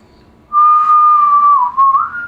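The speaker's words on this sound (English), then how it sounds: "Perfect whistle, guys." A person whistles a single sustained, clear tone for about two seconds with a slight wavering dip and rise near the end, close and loud against a quiet background.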